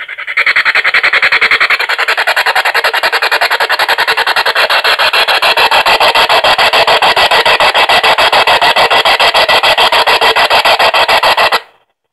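An Empath P-SB7 spirit box in raspy scan mode pours out harsh, loud radio static with a rapid stuttering chop, continuous for about eleven seconds before cutting off abruptly.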